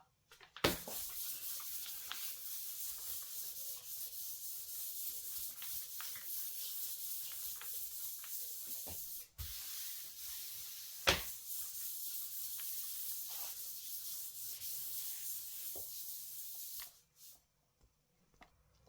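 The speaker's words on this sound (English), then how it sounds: "So I'm going to be smoothing it out with our smoother." A cake smoother glides over the frosting of a basketball cake, a steady close scraping hiss that runs almost unbroken, with a few light taps and knocks along the way.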